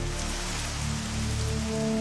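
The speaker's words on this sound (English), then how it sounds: "The river channels on Titan are formed by methane rain" Steady, dense rain hiss stands in for methane rain falling on Titan, continuous and close throughout, with a low tonal drone beneath it.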